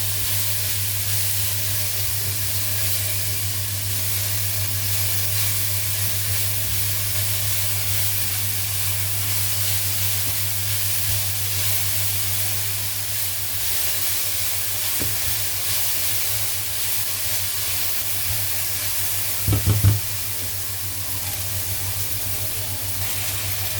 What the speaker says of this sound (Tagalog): Inuuna kong iluto yung patatas, piniprito ko para maging mabango.